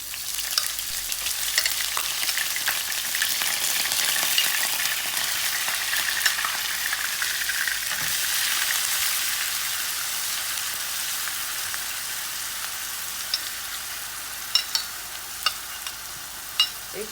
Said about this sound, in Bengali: লং, দারচিনি, এলাচি, তেজপাতা দিয়ে দিচ্ছি। আমি অনিয়নগুলাও দিয়ে দিচ্ছি।